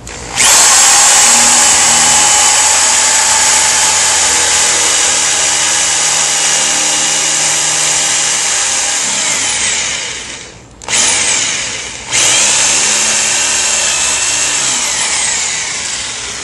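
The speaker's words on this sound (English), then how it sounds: "Gonna drill through this panel, both the wood and the plastic, with the wood drill bit." A power drill with a wood bit bores through a wooden and plastic mobile home skirting panel, giving a loud, steady high whine that briefly drops out twice near the end before resuming, with no talking.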